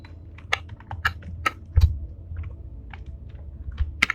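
Someone types a command on a computer keyboard, a run of light, close key clicks in an irregular rhythm with a few firmer taps standing out, over a quiet low hum.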